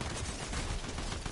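Rapid bursts of gunfire in the video game Fortnite, a dense crackling volley that stays steady for more than a second.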